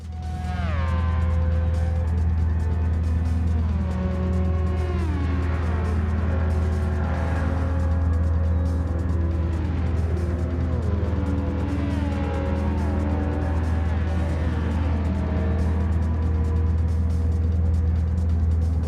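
Racing cars in Gran Turismo 7 roar past on track, a loud continuous engine drone with rising and falling pitch sweeps as several cars pass in close succession, no talk.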